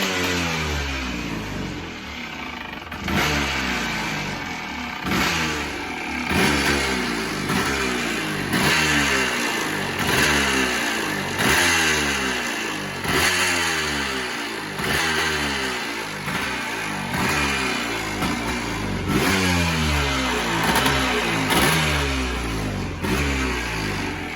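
The engine of a 1982 Honda ATC250r two-wheel conversion revs repeatedly up and down, loud and close, in a regular rhythm of rising and falling blips with no talking.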